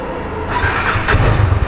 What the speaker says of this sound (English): with side stand on I am turning on my bike